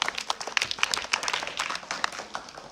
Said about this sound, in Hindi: बिल्कुल सही जवाब। ताली बजाइए।